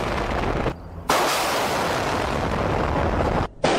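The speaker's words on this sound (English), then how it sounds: "a controlled explosion can complete the main structural removal in seconds" A controlled demolition blast bringing down a large bridge: a loud, sustained roaring boom that fills the clip, broken by two brief near-silent drops.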